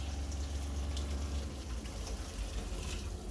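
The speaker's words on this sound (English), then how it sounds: "I'm putting my water in the pan that I seasoned it in" Water pours steadily into a seasoned cooking pan, a soft continuous gushing and filling sound at close range, heaviest at the start and settling into a lighter flow, with no talking.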